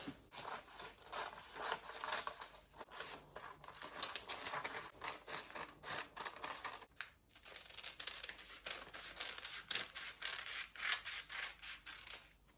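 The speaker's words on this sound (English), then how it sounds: "I'm going to cut the blouse out." Scissors cutting a blouse pattern out of fabric, with close, quiet, continuous snipping and crisp rustling of cloth and paper in uneven rhythm, with no talking.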